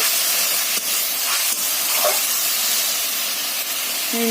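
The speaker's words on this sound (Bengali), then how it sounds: "এখানে দেখো মশলা কষাচ্ছি" Spices fry in a pan for a vegetable curry of potatoes and peas with a steady, close sizzling hiss that lasts throughout and has a few faint clinks.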